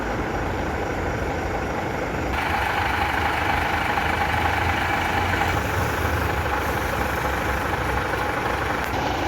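A boom truck's engine idles steadily at a pipe-laying work site, a continuous low rumble that grows slightly louder partway through, with no talking.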